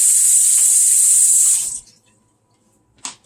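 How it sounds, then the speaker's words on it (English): Hands are washed under a running kitchen sink tap: a loud, close stream of water flows steadily, then shuts off, followed by silence and one brief splash or clunk, with no talking. "And then I close the oven, wash my hands,"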